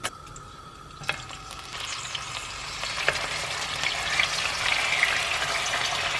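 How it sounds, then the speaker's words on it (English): Meat frying in a pan while cooking Afghan food: a steady, soft sizzle with crackles and a few sharp pops, building slightly louder over the few seconds, no talk. "We're going to fry the meat."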